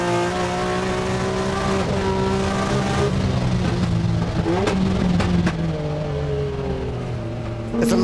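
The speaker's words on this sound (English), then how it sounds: "Let's just listen in as we listen to the Nissan flying, because this is a super powerful Nissan." A very powerful Nissan race car climbs the hill at the Goodwood Festival of Speed. Its engine roars loud and sustained, rising and falling through gear changes, with brief tyre squeals and sharp crackles.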